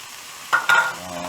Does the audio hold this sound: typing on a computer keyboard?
no